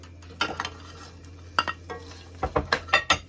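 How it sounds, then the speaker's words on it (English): Cabbage is sautéed in a pan, with a low sizzle under a series of clattering scrapes and knocks from a utensil stirring, the strokes coming in quick clusters, close and moderately loud. "we're going to start off with the cabbages"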